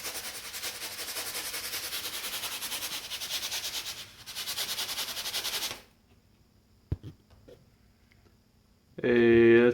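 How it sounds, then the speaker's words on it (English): Styrofoam rubbed against hair produces a steady, close scratchy rubbing that runs for several seconds with brief pauses, then stops; a couple of faint knocks and a short burst of voice follow near the end. "I'm going to take the styrofoam and rub it on my head, on my hair"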